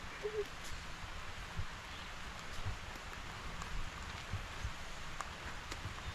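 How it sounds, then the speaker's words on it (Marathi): Soft, steady rain falls outdoors near a forest, a faint continuous patter with scattered drips and light rustling, heard at a distance under a low wash of ambient noise. "तेका लागून पावसूय येयलो."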